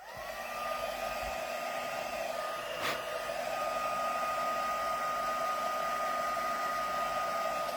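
Heat tool blowing continuously during gelli plate card crafting, a steady close whooshing hum that holds at an even level with one brief click partway through.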